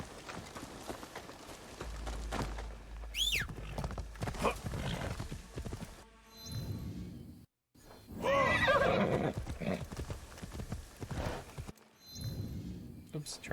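A horse whinnies loudly in the video game Assassin's Creed Shadows, with clip-clopping hooves and rustling movement, while a person talks over parts of it.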